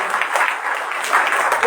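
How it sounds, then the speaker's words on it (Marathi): A church congregation at a foundation day service claps loudly, dense steady applause sustained throughout with a voice faintly mixed in. "जोरदार टाळ्या वाजवा."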